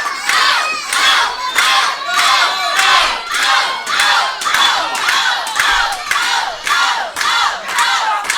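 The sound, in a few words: wrestling event crowd cheering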